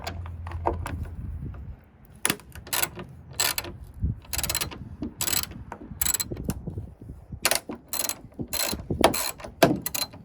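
Ratchet clicking in repeated bursts while 10mm bolts on a 2020 Ford F-150 tailgate are loosened, close and fairly loud, with brief pauses between runs of rapid pawl clicks.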